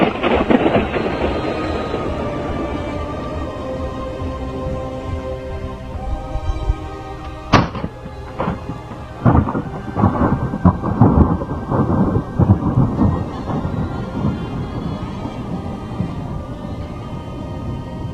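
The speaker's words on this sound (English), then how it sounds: "Here is a video of a guy blowing a balloon inside a nuclear power plant. When slowed down it sounds just like thunder." Slowed-down sound of a balloon being blown up inside a nuclear power plant, giving deep, thunder-like rumbles and booming cracks that roll and crackle through the middle, loud and without talk.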